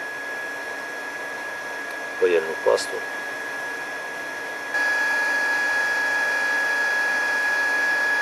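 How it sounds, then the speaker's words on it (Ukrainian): A hot air rework station blows a steady airy hiss throughout, stepping up louder midway, with a brief spoken phrase near the start, while desoldering parts on a 5000W inverter. "Вмикаємо фен і працюємо 360 градусів."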